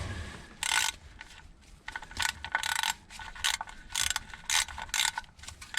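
A ratchet tightens the oil drain plug on a BMW, giving bursts of quick, close metallic clicking in short repeated strokes with brief pauses between them.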